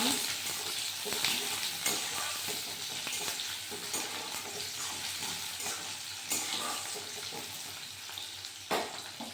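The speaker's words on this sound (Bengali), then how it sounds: "দিয়ে দিব কয়েকটা রসুন, দিয়ে আমি সুন্দর করে ভেজে নিব" Onion and a few garlic cloves fry in a pan with a continuous crackling sizzle, broken by frequent scraping stirs of a spatula. No voices are heard.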